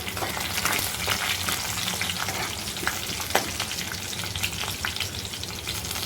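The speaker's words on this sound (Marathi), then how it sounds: "थोडंसं राई जिरं घालूया थोडासा पत्ता घालूया चांगला हलवून घेऊया" Mustard seeds, cumin and leaves frying in hot oil for a dry drumstick vegetable dish, a continuous dense crackling sizzle with scattered sharp pops and stirring scrapes, close and even throughout.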